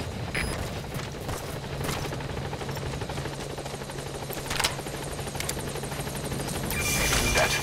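Helicopter rotor noise in Metal Gear Solid 5: The Phantom Pain thrums steadily throughout with scattered sharp clicks and bursts, rising toward the end; no talking.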